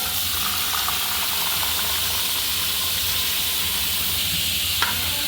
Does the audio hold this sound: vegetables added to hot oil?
yes